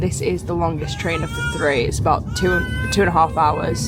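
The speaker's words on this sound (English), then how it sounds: "Please excuse that baby crying over there" A baby cries and wails in the background on a train while a person talks nearby over steady rumbling noise.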